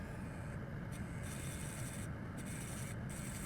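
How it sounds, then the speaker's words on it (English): A grinding pen scrapes at a copper trace on a dental chair controller circuit board, a faint close rubbing hiss that cuts out briefly a few times in short pauses. "Now we're going to use a grinding pen. Grind that trace"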